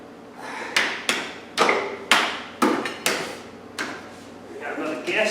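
Sharp smacks as a part is knocked into place during model car assembly, about eight distinct hits spaced roughly half a second apart, close and fairly loud, with no talk.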